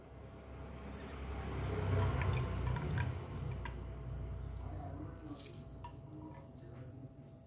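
Soaked kokum is squeezed firmly by hand to make Goan solkadhi with coconut milk, giving close wet squishing and liquid dripping under a person talking.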